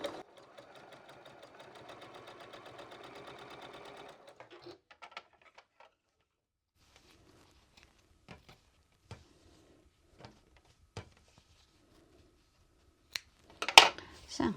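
Sewing machine stitching quilt panels, a quiet rapid mechanical whirr for about four seconds, followed by faint scattered clicks and handling noises.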